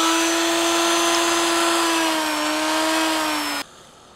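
A rotary tool fitted with a stone bit grinds a shallow groove into foam for a foam iron war axe, a loud, steady high whine that dips slightly in pitch and then stops abruptly.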